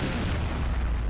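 A rail cannon fires in the Palworld video game, a dense, heavy boom of weapon fire filling a short moment at steady loudness with strong low rumble.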